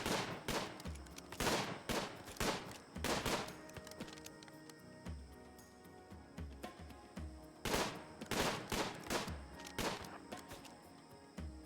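Colonists firing at raiders in RimWorld, bursts of game gunfire in clustered volleys separated by quieter gaps, sharp and fairly close.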